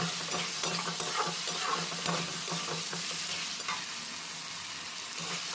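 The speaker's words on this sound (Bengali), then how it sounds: "টমেটোরটা দিয়ে পেঁয়াজের সঙ্গে ভালোভাবে মিক্স করে নিতে হবে" Chopped tomato stirred into frying onion, ginger and garlic for pomfret fish curry, a dense close sizzle with repeated spatula scrapes, strongest early and easing slightly later, no talking.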